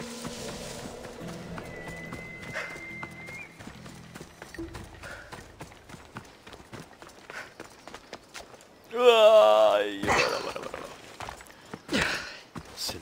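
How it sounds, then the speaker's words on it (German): A horse in the video game Assassin's Creed Odyssey, with clip-clop hoofbeats and footstep-like thuds running through the scene and a loud burst of game sound near the end, under occasional talking. "Jetzt kommt mein Pferd nicht hier hoch."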